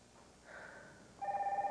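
A telephone starts ringing, a faint tone followed by a louder electronic warbling ring pulsing rapidly, heard alone in a quiet room.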